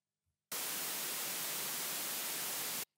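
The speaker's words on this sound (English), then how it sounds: "And then finally some white noise." A burst of synthesized white noise from a Pioneer DJS-1000 sampler hisses at full, even loudness for over two seconds, starting and stopping abruptly against silence.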